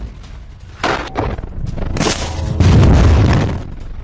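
Attack on an IDF tank in Rafah: loud, heavy booming blasts come in rapid succession, rumbling and crackling, with a sharp burst near the start and a thicker roar building toward the end.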